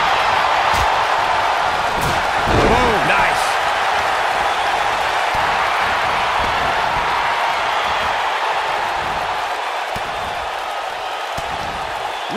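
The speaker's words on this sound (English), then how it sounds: "Listen to this crowd count the next one in." Wrestling arena crowd at a women's Royal Rumble match, a steady loud roar of fans with rhythmic surges suggesting counting along, dense and continuous throughout with occasional thuds.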